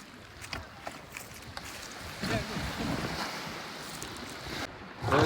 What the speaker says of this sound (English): Engine.